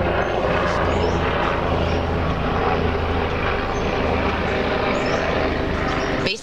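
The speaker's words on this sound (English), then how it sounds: "let this helicopter go by" Helicopter passing overhead outdoors in La Jolla, California, a loud, steady rotor and engine roar holding constant throughout before dropping off abruptly at the very end.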